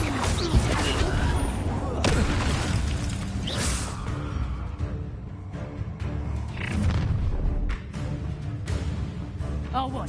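Fire spell blasts in Hogwarts Legacy, a dense run of booming, crackling bursts and whooshes in a wizard duel, loud and continuous for about ten seconds with battle noise behind.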